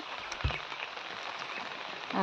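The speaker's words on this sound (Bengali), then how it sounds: "আর এখন এই যে ঝিরঝির করে বৃষ্টি পড়ছে" Light drizzle falling outdoors on a morning after a night of storms, a faint, soft, steady patter with a single brief low thump and no one speaking.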